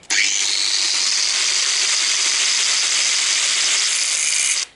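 A power tool whines steadily and loudly for about five seconds, trimming the protruding parts of interior supports while fitting a Xantia interior into a Traction 11B car. The pitch is high and even, the tool is close, and no one speaks.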